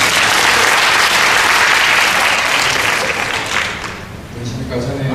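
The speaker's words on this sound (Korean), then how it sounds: "우리 박수 한번 치고" Congregation applause at a church teaching session, a dense, steady wash of clapping from a full room that thins toward the end as a voice begins.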